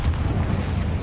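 Confringo explosive spell detonating in the Hogwarts Legacy video game, a brief loud rumbling boom with heavy low-end body, no talk over it.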